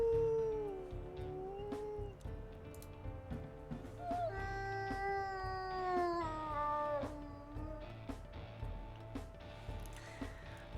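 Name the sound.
wolf pup's pained howl in WolfQuest video game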